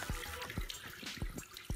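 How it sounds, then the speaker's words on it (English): Water runs into a Septisurge septic dynamic fluid manifold, standing in for effluent, with a steady low wash broken by several soft, irregular drips and plops close by. "Now you'll see as the water is still coming in, mimicking the effluent, it will stop and reset itself."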